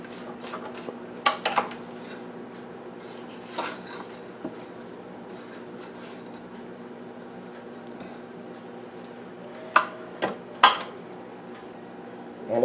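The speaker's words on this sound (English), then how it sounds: "Scrape the bottom of the bowl." A spatula scrapes around the bottom of a mixing bowl of banana cake batter, soft scuffing strokes and occasional sharp clinks against the bowl over a constant mixer-like hum.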